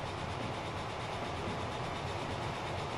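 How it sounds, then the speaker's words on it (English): Double-headed steam locomotives running in a Transport Fever game scene, a steady dense rumble of rolling train with faint rhythmic clatter, continuous and moderately loud for the whole stretch, no talk. "So Boston train heading in there."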